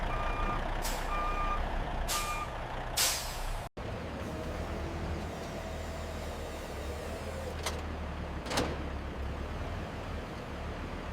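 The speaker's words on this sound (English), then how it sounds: "These trucks are built like tanks," An armored cash transport truck idles with a low engine rumble while reversing beeps sound in a few short repeated tones, followed by a sharp air-brake hiss, with no talk.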